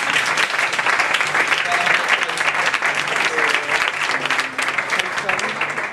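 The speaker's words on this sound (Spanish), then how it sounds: "¡Un aplauso!" Enthusiastic applause from a crowd at a Madrid live event, sustained clapping that swells and stays full, with faint voices mixed into the ovation.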